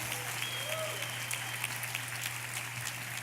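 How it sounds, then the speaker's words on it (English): Faint, distant applause from a graduating class of 2017 clapping for themselves at a commencement ceremony, a steady wash of clapping over a low hum throughout. "Will you clap for yourselves?"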